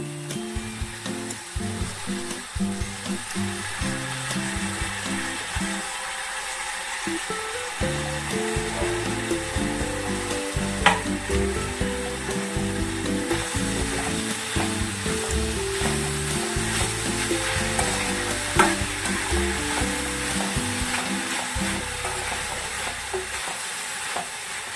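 Fenugreek leaves (menthi kura) fry with softened onions in a pan for a tomato curry, giving a steady sizzle with stirring scrapes throughout, while background music plays over it.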